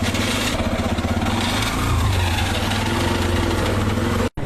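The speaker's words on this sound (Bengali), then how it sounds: "গাড়িটার ইঞ্জিনের ভিতর থেকে খুব বাজে ধরনের সাউন্ড আসছে" An Apache RTR 2V motorcycle engine with a bad internal noise, running close and loud with a steady rough pulsing idle and a slight rev near the middle before it cuts off abruptly at the end, with no talking.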